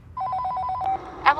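A telephone ringing, a quick run of evenly pulsed electronic rings that stops abruptly and is followed by a brief voice.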